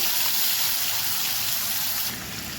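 Water poured into a pan of mustard seeds and oil, a steady broadband gush that runs close and loud for the whole stretch, easing slightly near the end, with no talking.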